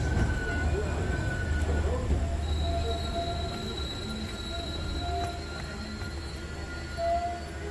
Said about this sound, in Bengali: 1 মিনিটের মধ্যে ট্রেন ছেড়ে বেরিয়ে গেল।